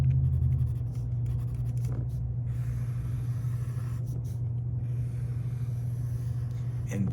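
Pencil scratching across paper to color in piano keyboard keys, a steady soft scribbling over a constant low hum, with no talking.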